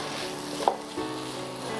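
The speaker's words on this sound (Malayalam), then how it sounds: "നമ്മൾ വറുത്തുകൊണ്ടിരിക്കുകയാണ്, വഴറ്റിയെടുക്കുന്നു." Masala for chicken biryani sautés in a pan, a steady close sizzle of frying with a couple of small clinks from stirring.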